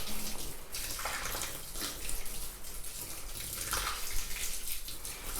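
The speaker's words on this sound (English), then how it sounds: "I'm just going to go ahead and pour and make sure that soil is getting saturated" Hydrogen peroxide and water mixture poured onto houseplant soil, a steady soft trickling and splashing stream that runs continuously at close range, with no talking.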